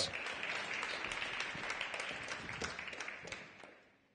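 A room full of people at a talk on AI clapping steadily, moderately loud, then fading out toward the end.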